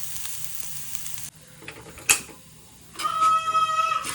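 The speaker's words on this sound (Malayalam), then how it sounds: "പിന്നെ നമ്മൾ ഈ തേങ്ങ ഒന്ന് ബ്രൗൺ കളർ ആവണ വരെ ഒന്ന് വഴറ്റണം കേട്ടോ." Grated coconut sautéing in a hot pan for Kerala-style jackfruit erissery, a steady soft sizzle with a faint scrape near the middle and a brighter, louder frying hiss in the last second, close by with no talking.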